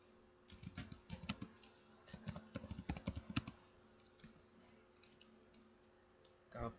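Keys clatter on a computer keyboard as a configuration command is typed in a network simulator, with bursts of quick clicks, a short pause, then more keystrokes close by over a faint steady hum.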